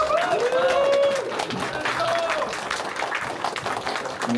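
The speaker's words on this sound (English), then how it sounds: "I want to give a round of applause for everyone here" Applause from an audience at a film premiere showcase, a crowd clapping steadily through the whole stretch with a few faint voices and cheers mixed in.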